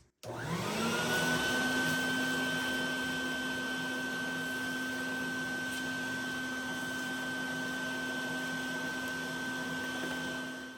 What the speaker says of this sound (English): I'm just going to do a little vacuuming here. Get some of this debris out of the way.